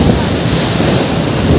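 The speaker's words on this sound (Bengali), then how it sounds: "এই হলো পুরীর সমুদ্র, আর এই হলো সেই পুরীর ঢেউ" Sea waves roll in at Puri beach as a loud, steady wash of surf, with gusty wind buffeting the microphone throughout.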